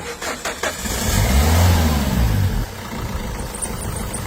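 A repaired car engine cranks briefly, catches and starts, then settles into a steady idle, loud and close in a mechanic's workshop.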